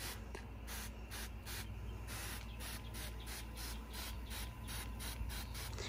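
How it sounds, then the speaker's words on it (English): A hand pump sprayer puffs fine mist over an orchid plant in a quick run of soft, rhythmic hissing bursts, faint and close, with no talking. "And now I'm just gonna do mist like this all over the plant."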